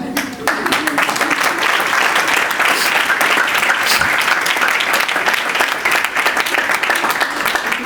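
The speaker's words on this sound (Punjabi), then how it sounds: "ਵੇਖੋ ਠੰਡ 'ਚ ਕਿੱਦਾਂ ਤਾਲੀਆਂ ਵਜਾਉਣੀਆਂ ਉਹਨਾਂ ਨੇ" An audience applauding in cold weather at a sermon gathering, dense sustained clapping from a crowd filling the whole stretch, loud and close.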